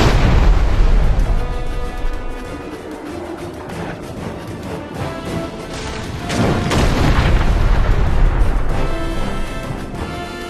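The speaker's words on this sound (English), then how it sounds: "The Azonites have cannons sighted on us." Cannon fire from Azonite gunners in the video game Dungeon Siege 3, loud booming blasts rolling over a dense battle din, with heavier bursts near the start and again after the middle.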